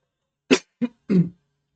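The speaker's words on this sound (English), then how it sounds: "Let me cough." Three short coughs in quick succession, close and fairly loud, the last one longer and rougher, with silence around them.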